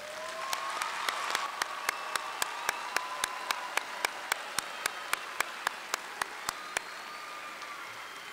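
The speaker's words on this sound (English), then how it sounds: "Should we offer one more round of applause for our graduates" Applause for graduates fills a fall commencement ceremony at ULM: a soft, steady wash of distant crowd clapping, with one nearby pair of hands striking sharp, evenly spaced claps that stop shortly before the end.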